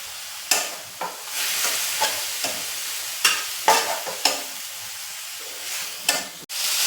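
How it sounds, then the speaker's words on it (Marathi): Fenugreek leaves (methi) stir-fried in a pan at home, with a steady sizzle and frying hiss broken by repeated sharp scraping bursts from the stirring spatula; no talk. "हे छान भाजून घ्यायचं आहे, त्याचा कडवटपणा राहणार नाही म्हणून।"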